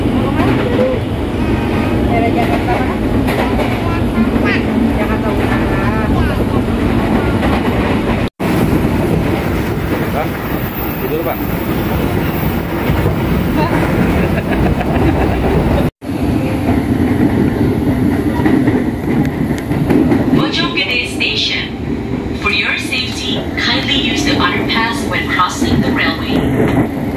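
KRL Commuter Line train running on rails toward Tanjung Priok, a steady loud rumble and rattle of the carriage with wind noise throughout, briefly cut twice, with faint voices in the background.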